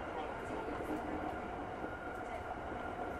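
A JR East Tokaido Line local train to Shin-Maebashi runs between Odawara and Yokohama, its steady interior rumble and rail noise continuous and moderately loud, with no sharp clatter.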